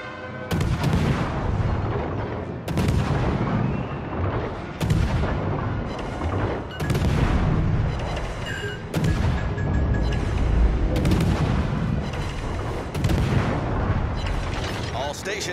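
Heavy naval gun salvos from warships in World of Warships: Legends, a series of loud, booming broadband blasts roughly every two seconds, each followed by rumbling decay, continuing steadily throughout.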